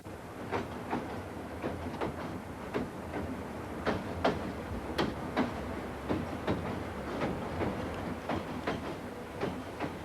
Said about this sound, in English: helping to haul countless trains over scores of crossings like the one at Ayr on the Burdekin River